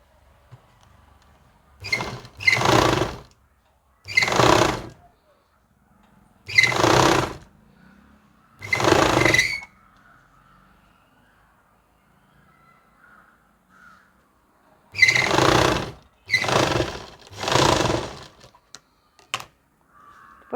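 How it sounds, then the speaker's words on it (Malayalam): A sewing machine stitches along a blouse neckline in several short bursts of about a second each, with brief pauses between runs and a longer gap midway, close and fairly loud with no talk. "ഇനി നമുക്ക് ഇതിൻ്റെ പുറത്തോട്ട് ഇതേപോലെ ഒന്ന് പതിച്ച് സ്റ്റിച്ച് ചെയ്ത് കൊടുക്കണം"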